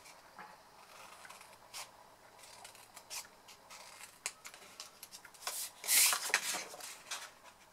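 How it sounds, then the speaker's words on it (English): Scissors snip corners and tabs from folded, burnished card for an advent calendar drawer, a run of quiet crisp cuts growing louder and denser near the end, close and alone. "Cut away the corners and then cut tabs on this one."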